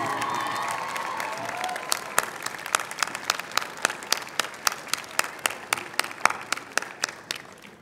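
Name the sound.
graduates cheering and applauding at commencement ceremony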